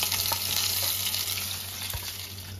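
Pieces of fish sizzling in hot oil in a home kitchen pan, a steady dense crackle and hiss with occasional louder pops, close and continuous.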